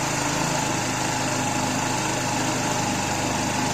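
A SkyBike Quest 150cc scooter engine idles while warming up, with a steady, fast, buzzing putter heard close and alone throughout.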